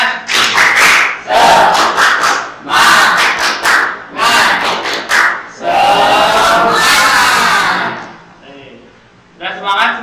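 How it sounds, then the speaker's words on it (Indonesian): Classroom of students chanting a 'tepuk semangat' clapping cheer in unison: loud rhythmic bursts of group voices and claps in several phrases, then a short pause and one more brief shout. "Tepuk semangat."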